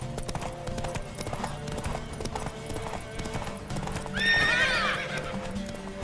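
Horse hooves clip-clop at a steady gallop in The Witcher 3, ending in a loud, close neigh near the end, with game music and ambience underneath.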